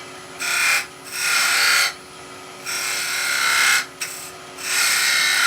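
A skew chisel cuts a V into spinning wood on a lathe while turning a Christmas tree, making several loud, short bursts of hissing scrape separated by quieter gaps over a steady motor hum.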